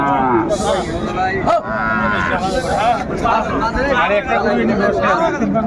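Sahiwal cattle mooing at a busy cattle market in Barishal, with loud repeated lowing close by and a crowd chattering and talking throughout.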